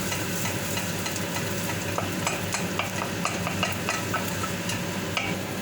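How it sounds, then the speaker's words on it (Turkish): Tomato paste is stirred and fried in a pan over a steady sizzle, with a spoon scraping in a fairly regular rhythm, close up and with no talk. "Ondan sonra yavaş yavaş kavuruyorsunuz."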